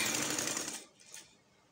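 A sewing machine runs a line of stitching around a garment neckline for under a second, then stops, leaving a faint trailing whir in a quiet room.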